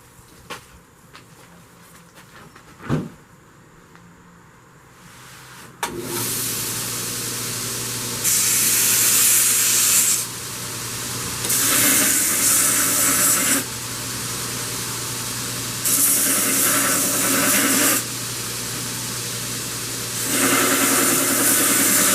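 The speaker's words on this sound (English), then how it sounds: "This is ready for grinding, so we're going to rough grind it, do some shaping." A workpiece being rough ground for shaping: after a quiet start, a loud, harsh grinding hiss over a steady motor hum, swelling and easing in long bursts as pressure changes, with no talking.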